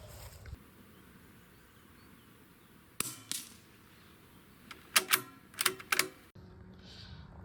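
Rifle shots fired at a target set with foil and tape marking the hits, heard as a few sharp cracks spread across the clip over a quiet outdoor background, with no talking.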